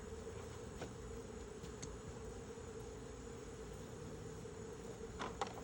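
Honey bees swarm around a hive in a meter box, making a faint, steady buzz that holds throughout, with a few individual bees droning closer past the microphone.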